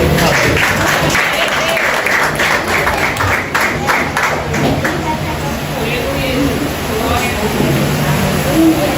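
A church congregation applauds steadily throughout, dense clapping filling a reverberant hall with a murmur of voices underneath.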